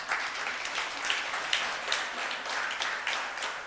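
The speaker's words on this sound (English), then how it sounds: "Let's clap for Professor." An audience at a women's business incubation graduation ceremony applauds a professor, giving steady, moderately loud clapping from a crowd that holds throughout.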